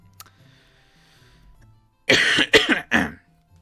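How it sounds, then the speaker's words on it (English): A few sharp coughs close to the mic, a quick burst of three after a near-silent pause. "excuse me for the cough"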